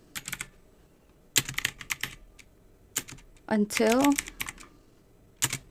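Keys on a computer keyboard are tapped in short, separate bursts, close and clear, while a voice speaks briefly in the middle.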